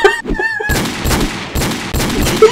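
Video game gunfire comes in loud, rapid bursts. Several volleys of shots repeat close together, with short gaps between them.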